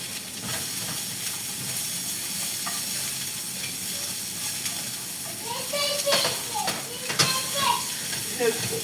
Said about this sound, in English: We're gonna sear these onions